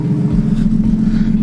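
A warmed-up BMW E90 idles loudly with a deep steady engine drone, a low thrumming tone that stays close and even, with a couple of brief low thumps as the engine note shifts slightly.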